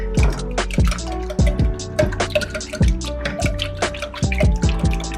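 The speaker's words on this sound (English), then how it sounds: "I'm gonna go ahead and whisk." Eggs are whisked in a bowl: quick, wet slapping strokes repeat in a steady rhythm, close and fairly loud, with no voices.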